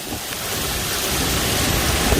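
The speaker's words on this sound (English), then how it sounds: "The rain coming in every direction, essentially, with the wind as strong as it is" A thunderstorm in Little Rock lashes down heavy rain driven by strong wind, a loud, steady, dense roar of downpour and gusts that fills the whole stretch, with no voices.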